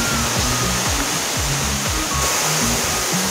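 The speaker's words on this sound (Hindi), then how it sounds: "और ये रहा वाटरफॉल।" Zenith waterfall at KP Falls near Khopoli, a steady, loud broadband roar of falling water that fills the whole span, continuous and close with no voices over it.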